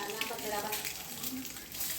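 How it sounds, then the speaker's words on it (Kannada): An egg fries in oil with salt, pepper powder and cumin powder, a close, steady crackling sizzle with stirring noises and no talking. "ನೆಂಚ್ಕೊಳಕ್ಕೆ ಮೊಟ್ಟೆ ಫ್ರೈ ಮಾಡ್ತಾ ಇದ್ದೀನಿ."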